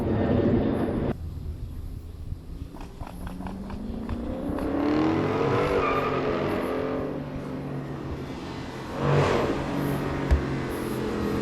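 A Dodge Hellcat Charger does a burnout nearby, its engine revving hard and rising in pitch, then dropping before another loud surge toward the end.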